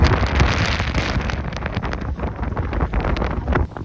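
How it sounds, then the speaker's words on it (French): Strong, steady wind on the Col de la Vache mountain pass in the Belledonne range roars and buffets the microphone with low rumbling gusts throughout, loud and close. "Il y a un vent là-haut."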